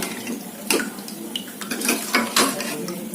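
Ragi flour mixture stirred in a pot for ragi mudda, a spoon scraping and clinking against the metal in several uneven strokes, close and fairly loud with a wet, watery texture.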